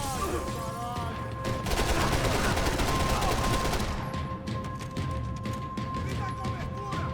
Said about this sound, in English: I've now got a machine gun.